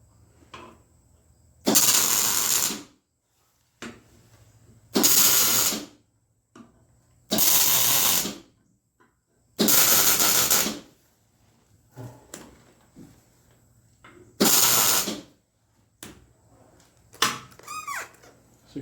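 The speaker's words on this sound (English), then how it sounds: "So we got 3 little tack welds there." Tack welding on a steel battle axe: five short, loud crackling bursts of roughly two seconds each, separated by quiet gaps filled with faint handling clatter and small metallic knocks.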